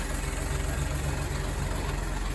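The rebuilt engine of a WW2 Humber staff car idles at close range, a steady, even low rumble with a constant throb and no change in pace.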